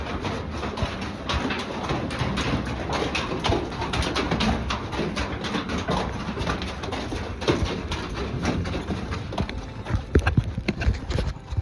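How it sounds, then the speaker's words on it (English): Pack mules' hooves clip-clop along the Grand Canyon trail in a steady, close, uneven rhythm. Pigeons coo throughout, and the hoof strikes grow louder near the end. "This is the pack mules."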